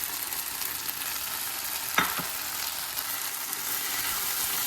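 Eggplant chutney with coriander and fenugreek leaves stirred in hot oil, a steady soft sizzle with a brief scraping stir of the spoon near the middle, no talking.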